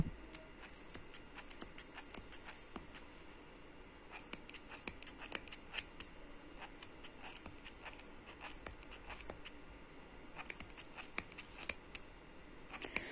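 Scissors repeatedly snip through knitting yarn beside a sentro knitting machine, a quick series of sharp, close metallic clicks in irregular bursts over quiet room tone.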